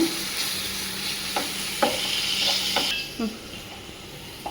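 Ginger garlic paste frying in oil for chicken fry, a continuous bright sizzle with a few spoon knocks and scrapes against the pan, close and moderately loud.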